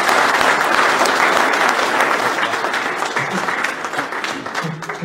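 An audience applauds the volunteers at the podium of a French predator-fishing championship, a loud, continuous wash of many hands clapping that fades slightly toward the end, with a voice faintly underneath.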